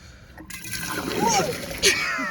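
Water gushes quickly into bottles at a drinking water station, a close splashing, pouring rush that builds over a couple of seconds.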